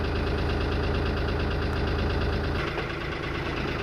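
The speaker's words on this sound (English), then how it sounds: "smoke coming from the engine. However, this is normal for a cold piston diesel." Cold piston diesel boat engine idling steadily, a continuous close knocking rumble with a faint shift in tone near the end and no talk over it.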